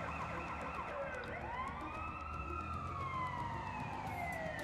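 Ambulance siren from the city-building game SimCity 4 Deluxe wails through one long rising and falling sweep, loud and steady over a constant background hum, with no talking.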